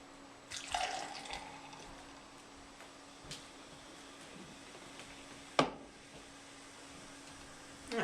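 Energy drink splashes and trickles into a container for a moment near the start, then a quiet fizzing hiss lingers, broken by a single sharp clink.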